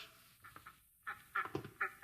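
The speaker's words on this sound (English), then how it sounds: "Here are the ducks." Ducks quack in a short series of loud, nasal calls, several bursts close together after a brief pause, in a zoo setting from a 1955 radio drama.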